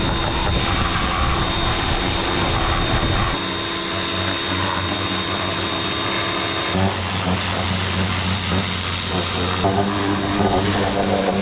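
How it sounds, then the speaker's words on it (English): A pressure washer hooked up for cleaning the underside of a GMC Sonoma pickup truck being rebuilt sprays steadily and loudly, its broadband hiss and motor drone continuous, with the pitch shifting as the spray moves around. "All right, got the pressure washer hooked up."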